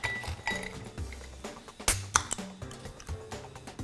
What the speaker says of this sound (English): fill it up with some cube ice